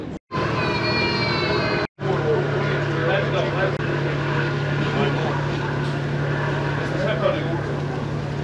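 Steady engine drone and rumble aboard a small car ferry crossing to Brač, Croatia, heard from the windy upper deck, with a brief high whine at the start and a couple of sharp dropouts.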